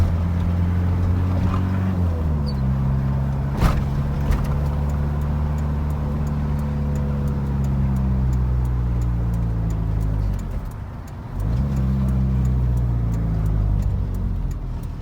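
A Hyundai H100 truck drives along with a steady, close engine drone, its pitch stepping down around two shifts as the driver changes speed; no talk is heard over it.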